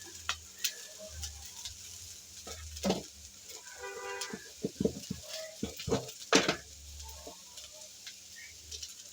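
Sweet corn kernels and diced carrot fry lightly in a little oil for a snack, giving a soft, steady sizzle broken by clinks and scrapes of stirring, with scattered tapping and faint background noises and no talk.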